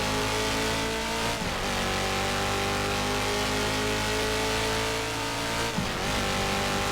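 Race car engine from the GTR2 racing game held at full speed, a steady loud high-pitched drone with harmonic bands throughout, dipping briefly twice as gears shift.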